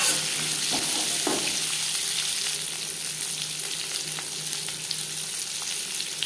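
Mankochu (taro) chunks fry in a pan for a prawn curry, a dense continuous sizzle with occasional soft stirring clatters, close and fairly loud, no voices.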